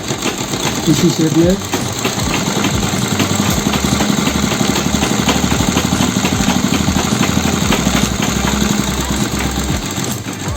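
Sewing machine stitching a double piping border on a sleeve, running steadily in a rapid mechanical rhythm, close and loud, with brief speech over it.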